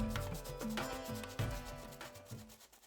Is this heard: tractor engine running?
no